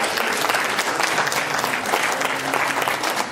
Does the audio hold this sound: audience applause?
yes